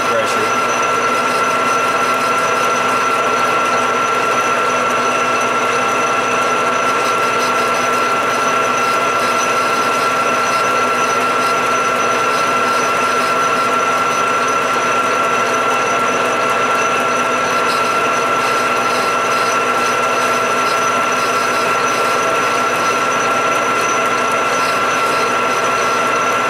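A lathe turns bronze thrust washers for a 1980 Can Am MX-6 125 restoration, taking light cuts; a steady mechanical whir with constant tonal hum and faint ticking runs throughout, no talk.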